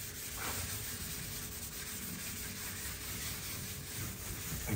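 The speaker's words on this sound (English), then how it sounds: "See if we can wipe off any more of that haze" Scuff pad rubbing over a freshly finished surface in an off-grid house to wipe away haze, a steady close scrubbing hiss that continues evenly throughout.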